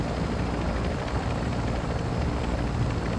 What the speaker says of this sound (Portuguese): Só usa o helicóptero de jogo.